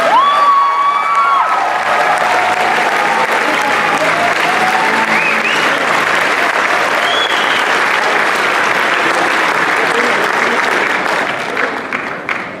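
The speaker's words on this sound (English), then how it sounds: "How about another round of applause for our graduates?" A crowd at a 2019 high school graduation ceremony gives graduates a loud round of applause, dense steady clapping with scattered cheers and whoops, easing off in the final seconds.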